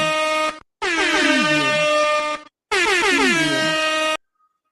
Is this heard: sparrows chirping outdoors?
no